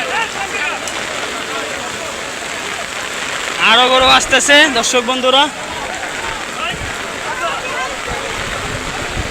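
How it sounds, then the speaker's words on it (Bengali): Heavy rain pours down on the open-air Hazratpur cattle market during Eid al-Adha trading, a dense, steady hiss running throughout while someone speaks loudly over it for a few seconds. "খুবই জোরে বৃষ্টি আসতেছে"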